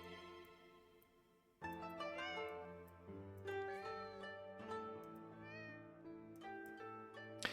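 Several cats meow in a video game, a chorus of overlapping, tonal meows that start abruptly and continue steadily, layered and fairly loud.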